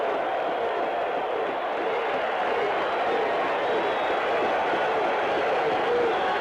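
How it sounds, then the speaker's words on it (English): A baseball stadium crowd roars steadily after a strikeout, a dense, continuous wash of distant cheering and crowd noise holding at an even level throughout. "Roach has the crowd excited."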